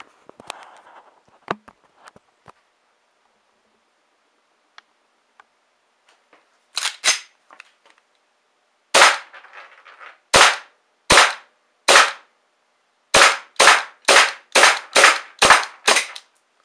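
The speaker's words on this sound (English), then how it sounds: "Okay, I got 12 rounds off before the mag ran out of gas." A WE MEU airsoft pistol shoots green gas rounds at room temperature, about a dozen sharp pops: a few spaced shots, then a quick regular string, loud and close with no talking.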